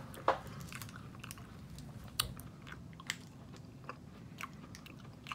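Crunchy sugary tamarind candy being chewed, a quiet series of sharp crunches and bites spaced irregularly over a soft background.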